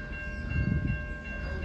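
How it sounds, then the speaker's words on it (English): A VLocity passenger train bound for Bendigo arrives at a station with a steady low rumble and a sustained tonal hum, heard from the platform at close range. "Here comes the train going to Bendigo, which is the opposite way to the way I'm going."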